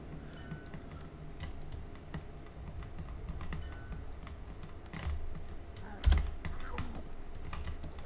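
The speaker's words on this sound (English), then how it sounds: "Looks like he's typing." Typing on a computer keyboard during Diablo 3 gameplay, scattered quick clicks and taps over a low background hum, with one sharper thump near the end and no talk.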